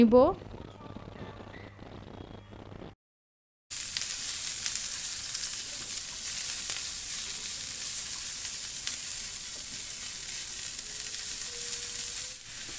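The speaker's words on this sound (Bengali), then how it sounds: "এখন ওই প্যানে আমি একটু সরিষার তেল দিয়ে এই পেঁয়াজগুলোকে ভেজে" Sliced onions sizzle in mustard oil in a pan, a steady close hiss that runs for about ten seconds after a brief moment of talk and a short silence.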